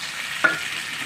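Potatoes fry in oil in a pan for a Bengali aloo dum, with a steady close sizzle and one brief sharp clink of stirring partway through.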